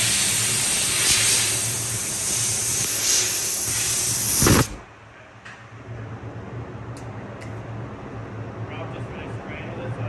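Aerosol dry spray hissing onto car bodywork during a K5 Blazer restoration, a loud steady broadband hiss for several seconds that cuts off abruptly, leaving quieter room noise with a low hum and faint short sounds.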